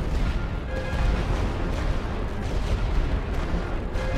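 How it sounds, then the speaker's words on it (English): Artillery fire from the First World War game Great War Western Front, a dense continuous rumble of booms and blasts that fills the whole stretch with no clear gaps. "Need to keep this artillery down."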